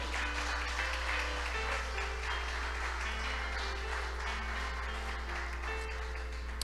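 A church congregation applauds in a broad, fairly even wash of clapping over a constant low hum, with faint tonal sound drifting beneath and no voices on top.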